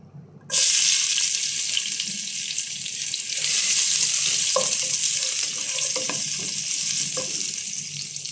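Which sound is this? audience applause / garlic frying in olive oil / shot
garlic frying in olive oil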